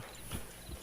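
A horse's hooves clip-clop in Red Dead Online: two soft, low thuds spaced about a third of a second apart, faint against a hissy background, with no voices.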